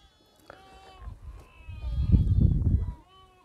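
Several goats on a farm in Saudi Arabia bleat nearby, including sick and very old ones penned apart, with overlapping wavering cries swelling into a louder chorus before fading.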